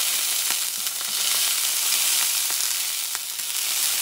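Olives sauté over medium heat in a pan, giving a loud, dense, continuous sizzle with occasional soft ticks and pops and no voices.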